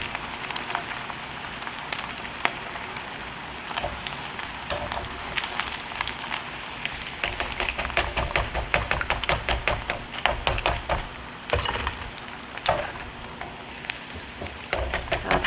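Pork pieces for tangsuyuk deep-fry in hot oil, giving a dense, loud crackling sizzle with constant popping and spitting, close by, with no talking.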